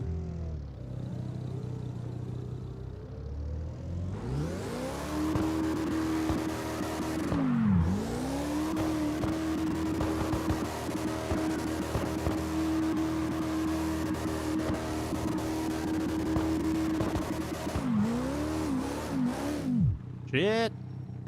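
A Voodoo car's engine revs hard and holds a steady, droning high note while drifting, dipping briefly a few times as the throttle lifts, then sputtering near the end.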